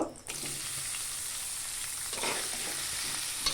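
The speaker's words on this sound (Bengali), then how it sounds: "তেল গরম হয়ে গেছে, এখন পেঁয়াজ কুচিগুলো দিয়ে দিব।" Chopped onions hit hot oil in a wok-like pan, giving a sudden burst and then a steady, dense sizzle close by with faint stirring scrapes throughout.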